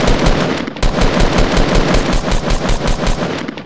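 SCAR assault rifle fire in the video game Fortnite, loud and close, with rapid repeated bursts of automatic shots in a steady rhythm across the whole stretch.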